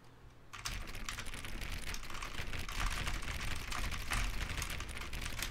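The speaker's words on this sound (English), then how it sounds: "Perhaps 50 clicks will do it. Yes, almost certainly 50 clicks." Computer keyboard keys clicked rapidly and repeatedly, a dense close-up clatter of keystrokes that starts abruptly and continues at a steady pace with no talk.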